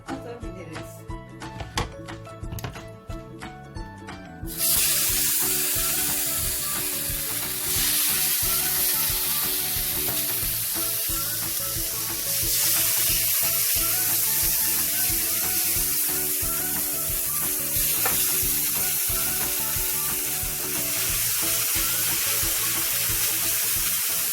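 Clattering and shuffling at first, then a loud, steady sizzle of chicken rolls searing on a hot grill pan that holds for the rest of the clip.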